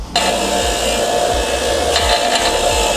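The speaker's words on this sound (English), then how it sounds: "the first thing I'm going to do is run by the wire wheel and get all the old stuff off" A wire wheel scrubs old thread tape off an RV plumbing fitting, giving a steady loud whir with a grinding rasp and faint low rhythmic thumps running continuously throughout.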